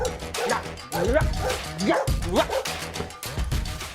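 A dog barks and whimpers in short yips and whines, loud and close, over about four seconds with brief pauses between bursts.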